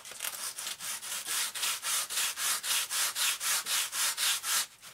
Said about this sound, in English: sand it just a little bit